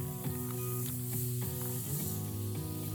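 Margarine and oil sizzling in a hot pan while cooking dried fish outdoors, a steady hiss running throughout. Low humming tones and a few scrapes sit beneath it.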